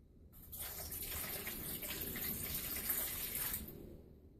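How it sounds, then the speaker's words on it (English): Water gushes from a tap into the bottom of a roasting pan beneath a slow-cooked pork shoulder, a steady close pour lasting about three seconds before cutting off. "we're going to add some water to the bottom of the pan."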